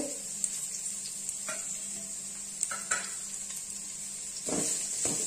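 Onion and green chili sizzle steadily in a hot pan with occasional stirring scrapes and utensil clinks, fairly quiet throughout.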